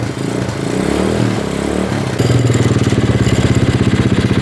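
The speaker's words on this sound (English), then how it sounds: "All right, it's idling." A cheap ATV engine with a cold-blooded, poorly adjusted carburetor sputters unevenly, then settles into a loud, steady, rapid idle chug close by.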